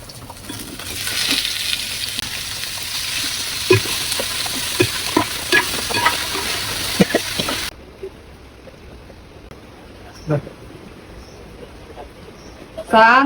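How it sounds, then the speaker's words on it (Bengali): Boal fish pieces dropped into hot oil, frying with a steady loud sizzle and occasional stirring clatter, which then drops away to quieter kitchen sounds with a few knocks. "মাছগুলো ছেড়ে দিব তেলের মধ্যে"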